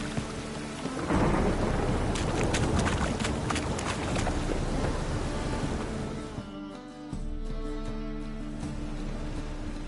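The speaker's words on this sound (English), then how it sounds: "And it's raining again." Steady heavy rain pours alongside deep rolling thunder in a PS4 video game, loud and continuous throughout with no voices.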